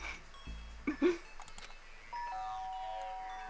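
A doorbell chime sounds in the video game Danganronpa: Trigger Happy Havoc, following a few soft bumps. It gives clear, sustained ringing tones that hold steadily to the end.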